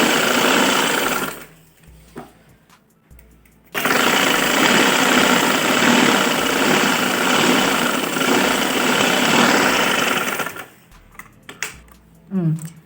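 A sewing machine stitches through three layers of fabric on a girl's winter frock, running in loud close bursts broken by short pauses, with a few clicks near the end.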